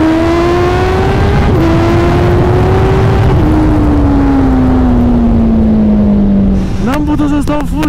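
A Kawasaki Ninja ZX10R sport motorcycle of about 200 horsepower at full throttle on a road, its loud engine rising through the gears with brief dips at each shift, then a sharp burst of revving near the end.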